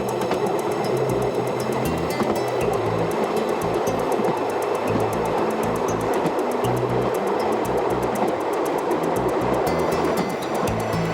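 Swiss passenger train travelling past lakes near Brienz, a steady rumbling roll with rhythmic wheel clatter throughout, close and continuous with no voices.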